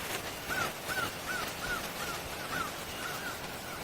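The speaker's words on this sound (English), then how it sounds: "crows." Crows caw repeatedly outdoors at Santee Coastal Reserve, a steady run of about eight evenly spaced calls, fairly distant and moderately faint over a soft background hiss.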